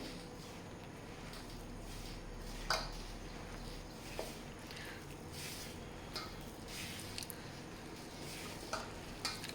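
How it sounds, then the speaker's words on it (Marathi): Spoon stirring a bowl of sprouted mung bean mixture with a spoonful of oil, soft scraping and clinking strokes repeating steadily with a few sharper taps, fairly quiet and close with no talking. "एक चमचा तेल टाकूया ह्याच्यामध्ये आता हे आपण चांगलं मिक्स करून घेऊया"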